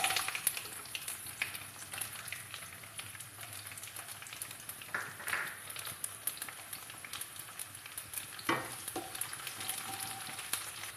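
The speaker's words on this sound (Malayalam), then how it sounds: "നല്ലെണ്ണ ചൂടായി വരുമ്പോഴത്തേക്ക് ഇതിലേക്ക് കുറച്ച് കടുക് ഇട്ട് കൊടുക്കുകയാണ്." Mustard seeds and garlic sizzle and spit steadily in hot sesame oil while a fish curry is being cooked, with a few brief louder pops and crackles breaking through the even frying hiss.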